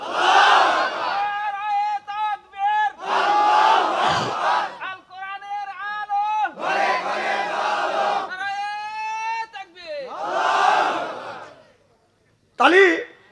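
A large crowd roars a takbir chant, Allahu Akbar, in loud unison bursts at a rally in Gopalganj, answering a preacher's shouted calls; his amplified voice alternates with four swelling crowd responses.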